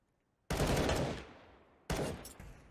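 Gunfire in a professional Counter-Strike match on the Dust2 map, two loud sudden bursts of rapid shots, each ringing out and fading, with silence before the first.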